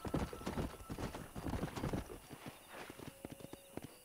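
Horse hooves pounding a rhythmic gallop while riding in the Red Dead Redemption video game, close and steady, then thinning to scattered lighter clops.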